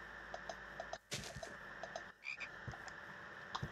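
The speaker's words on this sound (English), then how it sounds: "The Beaver, that sounds like a frog." The Beaver mob from the Minecraft Orespawn mod gives repeated frog-like croaks, short rhythmic calls at a steady pace, fairly faint and with no talking.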